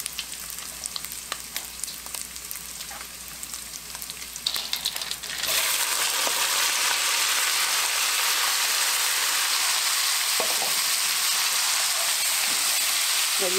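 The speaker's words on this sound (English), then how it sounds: "I'm going to add my beans in" Pinto beans go into a hot pot with garlic, bursting into a loud, steady sizzle after quieter light frying crackles at the start, then frying continuously with a few scraping stirs.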